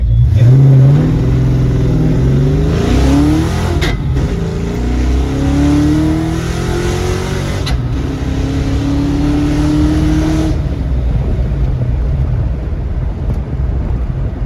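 A worn-out Ford 302 V8 in a 1986 Mercury Capri revs loudly and close by, climbing through several rising pulls with gear-like steps before settling back to a rough, steady idle.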